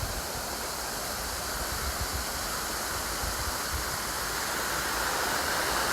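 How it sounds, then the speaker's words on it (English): Water rushes over a mill pond sluice gate toward a stream, a dense, constant roar that stays close and loud with no pauses. "you may be able to hear the rushing water as it glides over the sluice gate towards the stream"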